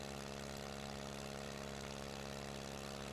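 A Klemm KL25D aircraft engine in MSFS 2024 drones steadily with an even, buzzing hum, constant in level and unbroken for the whole stretch.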